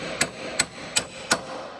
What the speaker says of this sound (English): hammer a socket right over it